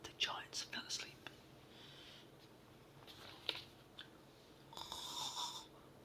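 A whispering voice imitates giants snoring in a bedtime story, giving several soft, breathy snore-like rasps in close, quiet succession with faint hiss between them.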